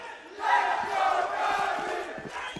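A large esports arena crowd at the BLAST Premier World Final 2023 Counter-Strike semifinals cheers and roars, swelling loud after a quieter opening and holding a sustained, surging din with no commentary over it.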